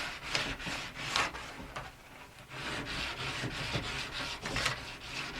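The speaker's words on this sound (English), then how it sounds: "don't worry about running the sandpaper a little bit over the side edge of the ski" Sandpaper rubs along the sidewall of an alpine ski in steady back-and-forth strokes, a close, dry, raspy scratching of moderate loudness with no talking.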